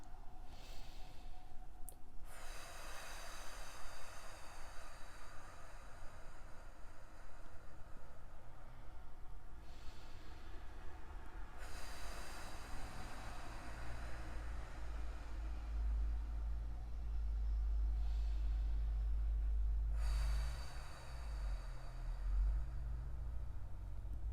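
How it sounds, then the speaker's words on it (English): Slow, guided breathing exercise with short inhales and long drawn-out exhales, soft airy breaths and sighs repeating over a low steady rumble, close and quiet with no talking. "We're going to start with inhales that are on the shorter side, long exhales."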